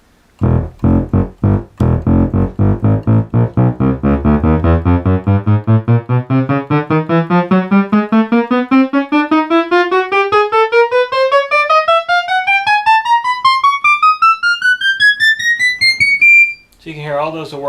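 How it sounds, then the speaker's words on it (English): A bright, buzzy sawtooth tone from a Polymoog synthesizer pulses in rapid repeated notes, climbing steadily higher in pitch before cutting off abruptly. "So this is just your sawtooth. I got it sustained here for me."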